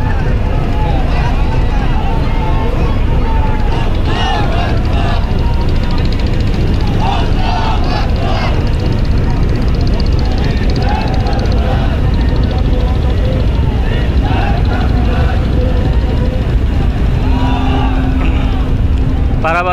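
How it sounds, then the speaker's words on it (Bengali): The passenger launch Parabad 12 passes close by on a crowded river during a mass departure of launches after a religious gathering, with a loud continuous engine rumble and water rush under steady talking and crowd babble. "পারাবাদ 12 ঠিক আমাদের পাশ থেকেই যাচ্ছে।"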